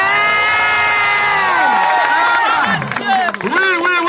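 Wedding guests cheer and whoop loudly for the bride Marie-France, a dense crowd of shouting voices with some clapping, sustained throughout and swelling near the end.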